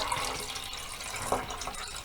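Water is poured steadily into a pyramid-shaped container, giving a soft, continuous splashing trickle with a few brief gurgles, fairly quiet and heard alone.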